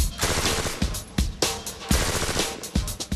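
IAR automatic rifle laying down support fire, with loud, close bursts of rapid gunshots in an uneven rhythm of short volleys.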